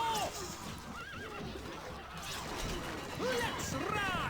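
Horses in the Stronghold Crusader HD strategy game whinnying several times over clattering hooves and battle noise, with a brief voice heard in the mix.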